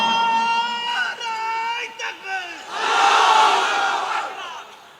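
At a Bangla religious gathering, a single voice gives a long drawn-out call. A large crowd then answers with a loud, swelling takbir shout that fades at the end.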